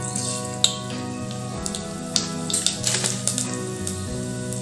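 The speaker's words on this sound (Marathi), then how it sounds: "जिरे मोहरी छान तडतडली आहे" Cumin and mustard seeds spluttering in hot oil in a pressure cooker, a dense stream of small crackling pops and sharp ticks over a steady hiss, close and fairly loud with no talking.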